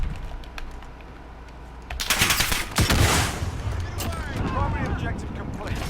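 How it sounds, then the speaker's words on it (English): Gunfire in the Call of Duty Warzone video game, rapid automatic bursts and crackling shots that swell loud midway, with a player talking over them. "This guy's shooting at us now."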